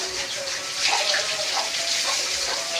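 Water poured out steadily at a household, a continuous splashing gush like a running tap, close and fairly loud.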